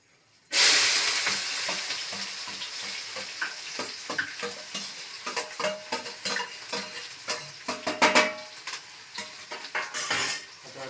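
Onion, tomato and green chili hit a hot pan with a sudden loud sizzle, then keep frying with a steady hiss while a utensil repeatedly scrapes and clinks against the metal, close and busy throughout.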